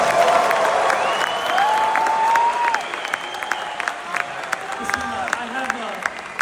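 An audience at a Khabib Nurmagomedov interview event breaks into a sustained round of applause, with crowd noise and some cheering mixed in and shifting tones running through the room.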